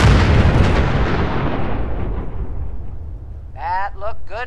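Artillery shells explode in the video game Fallout 4 with a loud, close blast and a long rumbling roar that slowly fades, followed by a voice speaking over the dying rumble.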